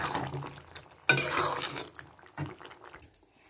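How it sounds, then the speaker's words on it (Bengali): Bean curry with chaat masala being stirred in a pan, with close scraping and clinking of a utensil against the metal over a faint sizzle and several separate strokes. "চাট মশলাটাকেও দিয়ে ভালো করে আমি একটু মিশিয়ে দিয়ে এবার নামিয়ে নেব"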